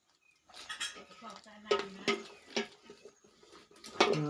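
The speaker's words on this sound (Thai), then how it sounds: "ให้เราคน ส่วนผสม สองอย่างนี้ให้เข้ากันก่อนนะครับ" Stirring a homemade dish soap mixture in a container, with a spoon or utensil scraping and clinking against the sides in irregular close knocks and rattles, over a quiet background with some voice.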